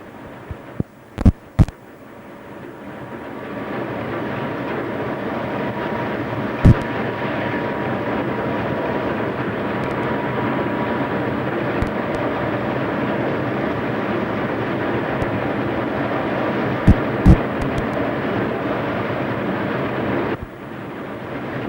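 A 1990s Ferrovie dello Stato direct train on the Udine–Trieste line hums and rumbles steadily at 140 km/h, with occasional sharp clicks and thumps over the continuous drone.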